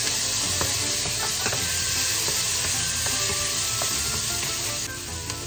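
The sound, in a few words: tomatoes sizzling while stir-frying cabbage with shrimp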